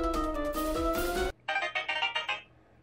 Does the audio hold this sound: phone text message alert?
yes